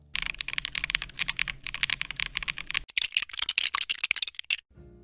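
Rapid, crisp clacking of fingers typing on a Kit Atom, a 60% gasket-mounted hot-swap mechanical keyboard built from LEGO, close and busy with a brief pause midway and a sudden stop at the end.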